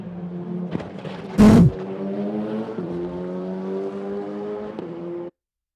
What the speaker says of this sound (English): This is an onboard from a robot car, doing exactly what you would expect a robot car to do.